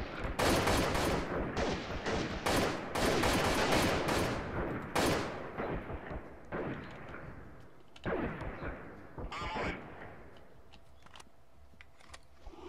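Dense video game gunfire crackles in rapid overlapping bursts with grenade blasts, loud and close at first, then thinning into sparser shots and a few distant booms.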